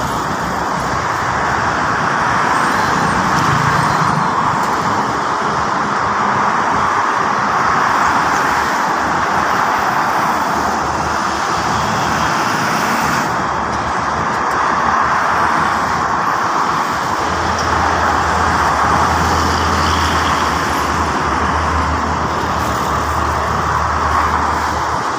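Heavy traffic on the Jakarta-Cikampek toll road with buses, a constant loud roar of passing cars and heavy vehicles, with a deeper engine rumble building toward the end in rainy-season conditions.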